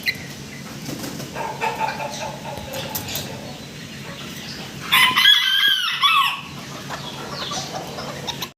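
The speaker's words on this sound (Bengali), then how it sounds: "খুব চমৎকার চমৎকার কিছু ফ্যান্সি মুরগি মোরগ আছে" Fancy chickens and roosters, including Partridge Silkies, cluck and crow on a farm, with a loud burst of crowing and wing flapping midway over steady flock chatter.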